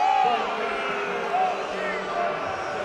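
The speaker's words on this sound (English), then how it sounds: "A lot of boos from the home crowd." A home crowd at an NCAA men's basketball game, South Dakota at Bowling Green, boos a foul call in a steady, dense roar that fills the arena, with sharp sneaker squeaks from the court cutting through a few times.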